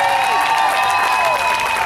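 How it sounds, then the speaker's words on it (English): An outdoor crowd at the Decatur Celebration in Central Park applauds the instructors. The clapping is brief and dense, heard over sustained musical tones and background noise. "Give these guys a big round of applause."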